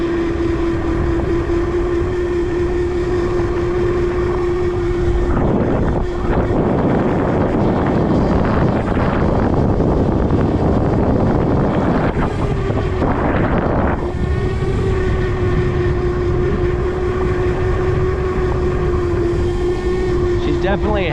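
Stock ETM RTR vehicle running at a steady engine drone with heavy wind buffeting the microphone, swelling into louder roaring gusts midway before settling back, continuous and close with no talk.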